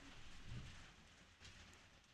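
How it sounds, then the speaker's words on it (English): Steady rain in a video game, a soft even hiss of falling drops with no voices, fairly quiet throughout. "Oh, the rain's back."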